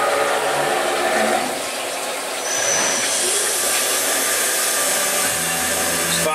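A three-flute quarter-inch Aluma Power end mill cuts metal on a PM727M mill, making a loud, continuous hissing whine that dips briefly and then holds steady.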